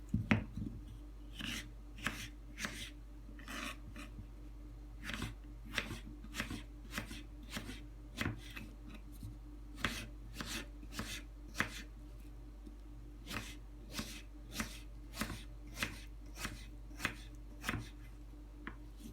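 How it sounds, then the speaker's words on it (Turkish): Rapid knife chops through potatoes on a cutting board, steady and close, continuing in an uneven rhythm over a low constant hum. "patatesimizi küçük küçük doğrayalım"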